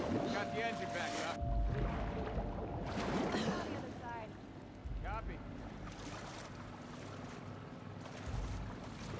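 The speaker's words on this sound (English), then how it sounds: "Got the engine back up." A boat engine runs in The Last of Us Part 2, a steady low motor rumble under splashing water and wind, with people talking over it throughout.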